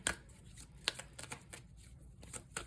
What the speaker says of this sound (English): Just shuffle this up a little bit.